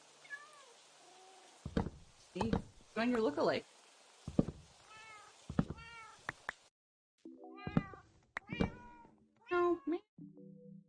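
A cat gives a string of loud, close meows and chirps spread across the stretch, interrupted by brief bursts of someone speaking.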